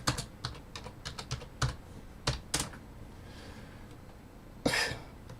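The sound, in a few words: typing on a computer keyboard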